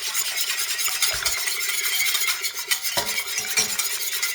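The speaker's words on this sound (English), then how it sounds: "put everything back in the pan and keep whisking" Steady close-up scraping and clinking as a whisk stirs a kataifi mixture around a metal pan in a home kitchen, with quick rhythmic strokes and occasional sharper metallic taps throughout.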